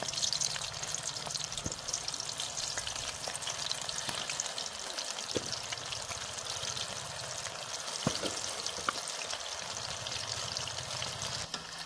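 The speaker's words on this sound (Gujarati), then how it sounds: "આપણે આને ધીમા તાપે ફ્રાય કરવાના છે એટલે એકદમ ક્રિસ્પી થશે" Chili chakri fry in oil over low heat with a steady, close sizzle that stays even throughout, broken now and then by faint clicks and stirring sounds.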